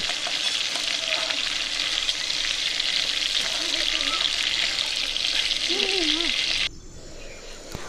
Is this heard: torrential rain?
no